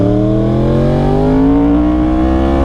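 A 2020 Yamaha R1 motorcycle engine pulls hard, its loud, steady drone climbing smoothly in pitch as revs build, close and uninterrupted.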